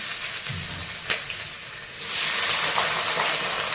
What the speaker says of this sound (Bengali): আমার তেল গরম হয়ে গেছে, তেলের মধ্যে আমি দেবো হচ্ছে জিরে আর গোলমরিচ। এগুলো ভাজবো।